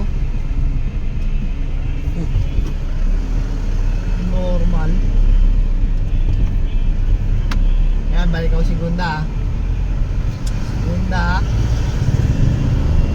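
A manual car's engine drones steadily through gear changes between third, second and first, with clutch and brake use, the rumble continuous beneath someone talking throughout.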